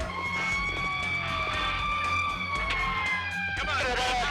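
Engine 11, a fire engine, races to a call with its siren wailing in rising and falling sweeps over a low rumbling motor, loud and continuous throughout.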